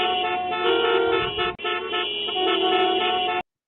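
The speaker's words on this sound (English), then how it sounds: "for those of you that may be tuned in and you're commuting to work and you are in your car, honk that horn" A car horn blares in one long, loud, steady honk, briefly broken midway, then cuts off abruptly, heard close with no voices.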